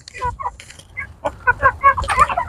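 Backyard hens clucking close by while being hand-fed, a quick run of short clucks and squawks that grows busier and louder toward the end.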